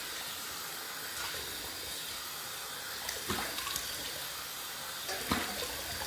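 Running tap water splashes and hisses steadily at close range in a bathroom as a face is wetted before shaving, with a few brief louder splashes and no talking.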